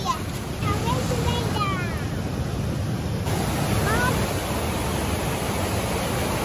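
A powerful waterfall at Conceição dos Gatos in Chapada Diamantina pours in a dense, constant rushing roar from nearby, with a few faint whistling tones above it.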